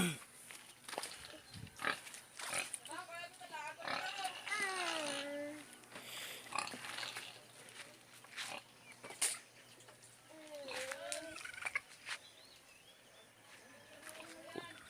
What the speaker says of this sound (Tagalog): Ito baboy yan oh.